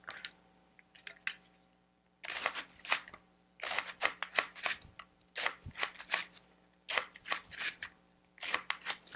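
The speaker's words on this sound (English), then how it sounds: "And you can shred it. With a knife, you can still get it really fine." A knife shreds cabbage for a sesame cabbage slaw, a quick run of crisp, rhythmic chopping strokes against a board after a few soft taps, fairly close with no talking.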